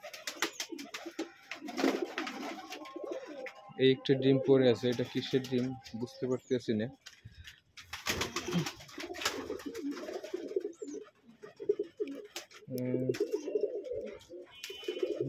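Pigeons coo repeatedly nearby at morning feeding in a loft, soft throaty calls coming in bursts, while a person talks over them for much of the time.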